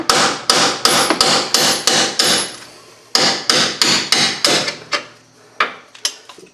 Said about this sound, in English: we're going to drive these out with a hammer. They're splined, so we'll just tap them out.